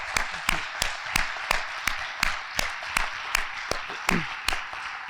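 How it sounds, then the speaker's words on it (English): A small audience at a county board and state house candidate forum gives a round of applause, heard as sparse, evenly spaced individual claps ringing out with little crowd noise. "Please join me in a round of applause for these candidates for Senator."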